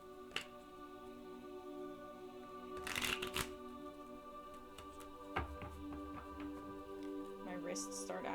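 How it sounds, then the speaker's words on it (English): Tarot cards being shuffled by hand, a soft continuous riffle and slide with a few sharper bursts of card flutter, heard close up over a steady background hum. "A few more shuffles."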